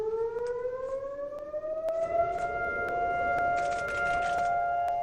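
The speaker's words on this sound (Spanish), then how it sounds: "Las sirenas que durante 2 minutos recuerdan en Israel los aniversarios del Holocausto." Civil defense sirens in Israel wail for Holocaust remembrance, a long sustained tone slowly rising in pitch and then holding steady, loud and continuous, with scattered faint clicks and noise underneath.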